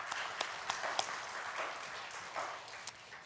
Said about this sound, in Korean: 감사하다고 함께 박수 치겠습니다